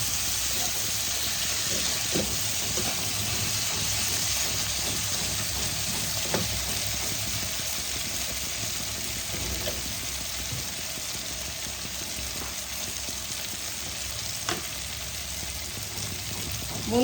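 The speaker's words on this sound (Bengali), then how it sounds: "এবার আমি ভালো করে কষাবো" Stuffed pointed gourd (potol) with cashew and raisin pieces sautéing in a pan, giving a steady soft sizzle throughout with a few faint clicks of stirring, fairly quiet and continuous.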